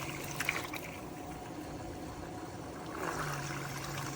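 An ultra-quiet 9-liter pet water fountain pump runs with a steady, soft hum under gentle trickling water, with a slight rise in flow toward the end.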